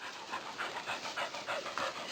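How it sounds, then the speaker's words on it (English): A dog panting out on a hike, quick rhythmic breaths repeating steadily and fairly close, with no talk over them. "I can hear her panting now, though."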